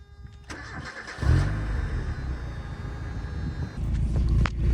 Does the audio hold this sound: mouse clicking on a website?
no